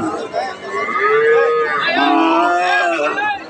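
Cattle mooing loudly and close at a busy market, long drawn-out lowing calls overlapping one another, with crowd chatter faintly underneath.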